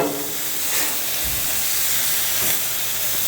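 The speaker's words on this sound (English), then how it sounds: "Now I'm going to flip my onions as well." Onions sizzling on a grill right after being flipped for keto burgers, a steady close hiss with a couple of soft thumps.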